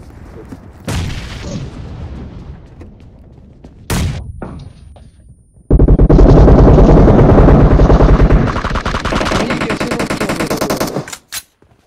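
Gunfire in PUBG Mobile: bursts of single shots, then a long sustained run of rapid automatic fire, loud and close, with excited talk of players over parts of it.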